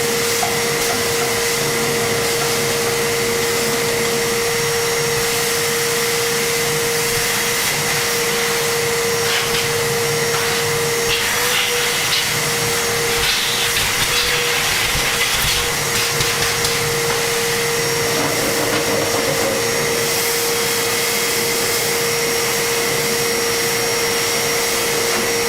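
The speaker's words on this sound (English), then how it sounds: "Vacuuming up all the macaroni." A vacuum cleaner sucking up macaroni in a CNC workshop, a loud continuous motor whine with a steady pitched tone, dotted with small rattling clicks as pieces are pulled into the nozzle.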